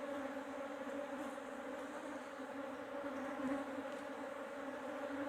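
During a colony split, a crowd of honeybees hums as frames are shaken over nucleus boxes, making a continuous, close, unbroken buzzing with slight swells and no talking.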